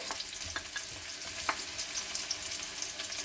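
Onion hits hot oil in a pot for an oxtail beef stew, giving a steady close sizzle with a few soft stirring knocks, and no talking.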